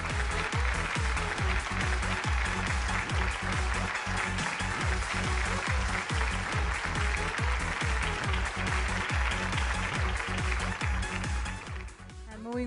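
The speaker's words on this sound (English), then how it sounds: "Let's have a huge round of cheer for Relaxo Footwears." An audience at a corporate brand awards event claps for Relaxo Footwears, dense sustained applause from a large crowd that carries on steadily for about twelve seconds before thinning out at the end.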